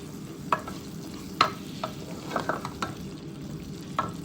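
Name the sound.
tomatoes frying and being stirred in pan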